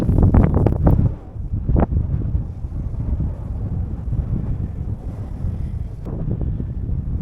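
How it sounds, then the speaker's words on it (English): Strong wind blows across open sand in an outback desert near Birdsville, buffeting the microphone with a continuous low roar and gusty rumble throughout. "And the wind is blowing."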